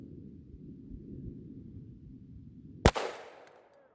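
Single close, sharp gunshot from a .41 Magnum loaded with Buffalo Bore ammunition, cracking out of steady low outdoor rumble and trailing off in a brief echo.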